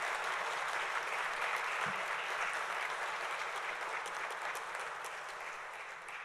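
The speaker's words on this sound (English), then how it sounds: "big round of applause" Steady, dense applause from a seated audience at a police academy class graduation ceremony, a continuous even wash of clapping heard from within the crowd, holding level for several seconds before easing slightly at the end.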